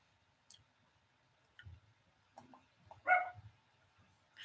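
A dog barks indoors, apparently at noises from outside, giving a few short, moderately loud barks with the strongest one near the end over a quiet room.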